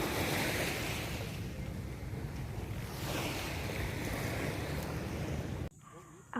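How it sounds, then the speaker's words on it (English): Surf rolling onto Akarena Beach in Makassar, a broad, steady wash of waves mixed with heavy wind buffeting the microphone, cutting off abruptly near the end. "now we are at the fourth destination, Acarena Beach"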